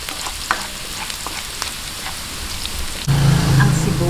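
Garlic sizzling in hot oil in a home kitchen for pork ribs, a steady crackling fry with a few sharp pops, growing louder and denser near the end.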